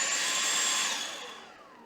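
Motor of a Dyson Animal vacuum cleaner spinning as its trigger is pulled, a high whirring whine close by that holds briefly then winds down and fades, with no talk.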